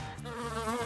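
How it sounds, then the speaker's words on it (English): Bees buzz close by in a steady, continuous drone with a slightly wavering pitch, heard alone for under a second with no talking. "Bees! Do you know who else should be afraid of these stinging little buzzers?"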